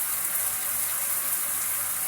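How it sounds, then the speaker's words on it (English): Shower water streams steadily onto a person's back, a close, even broadband rush with no talking. "I'm just letting the shower water hit my back because it's super nice."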